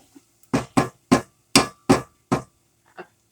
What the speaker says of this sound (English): I'm going to take my whisk and I'm going to whisk in a